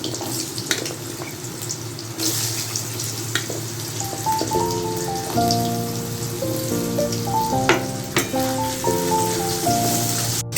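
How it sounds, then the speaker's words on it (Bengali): Potatoes frying in oil for a Bengali paneer capsicum dish, a continuous close sizzle, with a melodic tone sounding over it partway through. "এই তেলে আলুগুলো ভেজে নেব"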